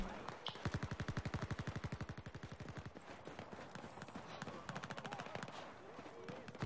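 Rapid bursts of automatic gunfire in Battlefield 4, a fast rattling stream of shots that continues throughout with brief pauses.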